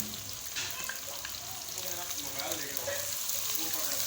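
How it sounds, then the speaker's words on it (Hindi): Sliced onions frying in a spiced pan for beef korma give a steady, close sizzle with soft bubbling crackle throughout, a faint murmur of voice low underneath. "अब इसको फ्राई करेंगे हम प्याज को।"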